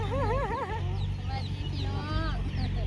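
Chickens cluck repeatedly at a rural Thai rice-field site where land is being pushed with machinery, rising and sliding calls close by over a steady low engine rumble, with faint voices in the background.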